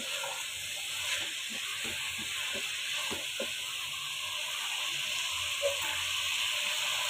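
Curry being sautéed and stirred in a pan: a steady, faint sizzling hiss runs throughout, with soft scraping knocks from the stirring.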